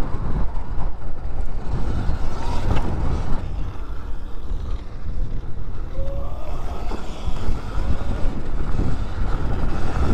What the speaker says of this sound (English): Ooh, it's windy, gusty over here.